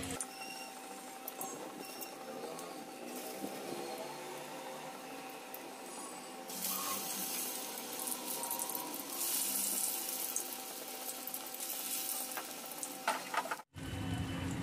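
Besan-coated pieces fry in hot oil, a steady broadband sizzle running throughout that grows louder about halfway, with a brief cut near the end.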